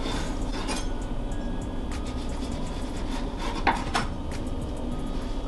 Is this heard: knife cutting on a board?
yes